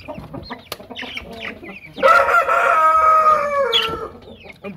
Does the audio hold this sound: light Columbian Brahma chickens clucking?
yes